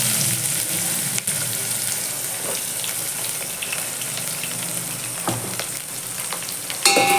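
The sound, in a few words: chopped onion sautéing with garlic in pan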